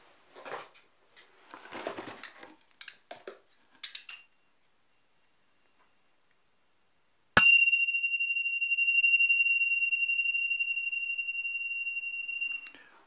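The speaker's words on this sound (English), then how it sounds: "are my Tibetan bells, Buddhist bells." Tibetan Buddhist bells sound after soft rustling and light taps, struck once with a sharp clang and then left ringing with a long, pure, fading tone, with no talk.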